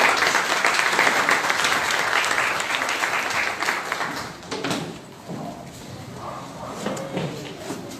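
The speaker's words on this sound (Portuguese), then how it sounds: "aplauda o nome do Senhor Jesus" A church congregation applauds in a dense, steady wash of clapping that stays loud for several seconds, then thins and fades as a few scattered claps and faint voices linger.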